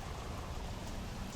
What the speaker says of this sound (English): And man, do we need this rain.